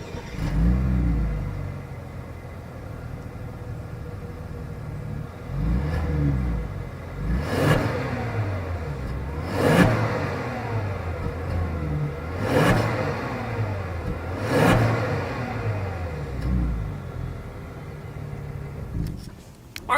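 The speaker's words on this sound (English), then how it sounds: "As always, here is that exhaust clip." A Genesis G80 Sport's exhaust, fed through quad chrome tips, revs repeatedly. Sharp blips rise and fall about every two to three seconds over a steady idle rumble, loud and close, with no talking.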